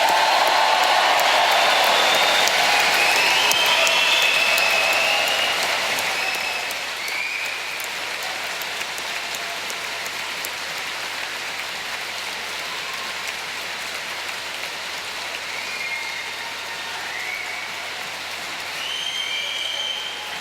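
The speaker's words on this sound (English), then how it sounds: "for you really to cheer for our graduates, recognising the achievements they've made, and raise the roof" A large graduation audience in a Paisley venue bursts into loud, dense applause with cheering, a continuous roar of clapping that eases slightly after several seconds but carries on at a strong level.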